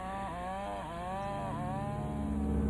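Chainsaws cut through thick trees for pulp in an Alaska forest, a steady droning engine whine with slight pitch dips as the blade bites, moderately distant and growing louder toward the end.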